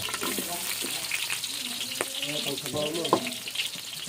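Onion and garlic frying in a pan give a continuous close hiss and crackle, with faint clinks of stirring and brief murmured voices in the background.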